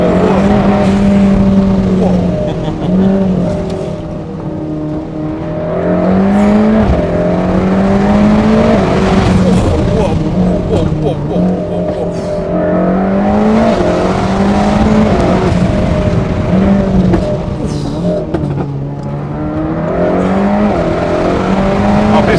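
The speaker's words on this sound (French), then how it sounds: "elle envoie la voiture." Luxury car accelerating hard, a loud close engine climbing through repeated rising revs with gear-change dips and a faint tire squeal, people talking briefly underneath.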